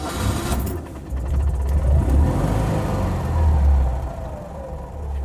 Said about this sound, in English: So I shall fire the engine into life.